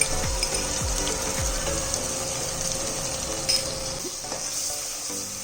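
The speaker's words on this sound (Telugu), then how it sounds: "ఇవన్నీ వేసేసాను, చక్కగా వేగిపోతున్నాయండి." Spices, turmeric and coriander powder among them, fry in hot oil in a pan for a fish curry, a steady close sizzle with a few stirring scrapes and faint clinks, no voices.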